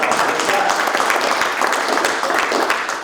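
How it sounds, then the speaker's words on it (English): Audience applause at an automotive conference talk, a dense, sustained crowd clapping at fairly close range that holds steady across the few seconds. "We should give him a round of applause even though he's not here."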